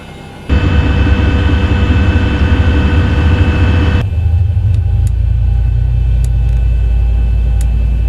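A simulated Boeing 737-8HX engine start in X-Plane 11 on a cockpit sound system, with a loud steady low rumble and whine that shift to a deeper spooling drone midway, plus occasional faint clicks, no talk.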